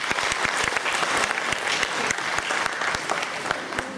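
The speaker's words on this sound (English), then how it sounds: "Please give them a loud applause, please." An audience at an annual function applauds a minister and his wife with sustained clapping, individual sharp claps standing out over a dense crowd bed, fairly close, no speech.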